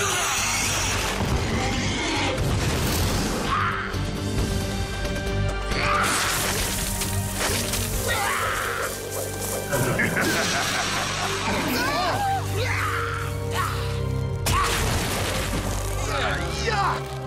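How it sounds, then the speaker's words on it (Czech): Cartoon stone storm attack: loud, dense crashing and smashing impacts in repeated bursts, layered over music and shouting voices throughout. "Kamenná bouře!"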